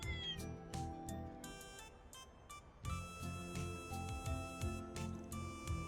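A cat meows repeatedly in the video game Trails Beyond the Horizon, with several clear meows over a steady bed of game music.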